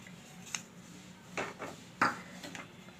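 Grated coconut being dry-sautéed in a pan over low heat for coconut burfi, heard as a handful of quiet, distinct spatula scrapes and light metallic clinks against a hushed background.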